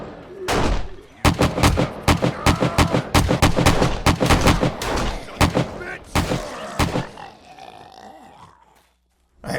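Rapid bursts of gunfire from the video game 7 Days to Die, loud and dense with repeated sharp shots over about seven seconds, tapering into quieter game ambience and a brief fading tone.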